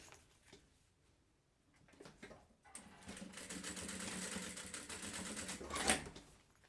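Sewing machine topstitching a seam on an insulated lunch bag with a 3D pocket, running steadily for about three seconds after a quieter stretch, moderately close and without talk.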